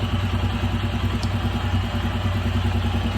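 A Royal Enfield Himalayan motorcycle engine runs at a steady idle, a close, loud, even clattering thump that stays constant throughout, with no talking.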